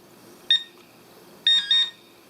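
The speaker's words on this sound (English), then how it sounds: "Okay, 3 beeps, that means it's on maximum sensitivity" Minelab Pro-Find 35 pinpointer in settings mode giving short electronic beeps: one isolated beep, then a pair of close beeps about a second later, crisp and near over a quiet background.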